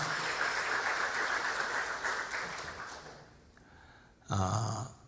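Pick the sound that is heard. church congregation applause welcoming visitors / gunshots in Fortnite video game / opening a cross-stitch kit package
church congregation applause welcoming visitors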